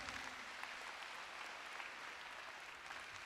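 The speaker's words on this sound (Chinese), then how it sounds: "我们再一次给我们这些总经理一个热烈的掌声。" A crowd claps for company general managers at a regional leadership training meeting in Malaysia, a steady, even wash of applause that sounds faint and distant throughout.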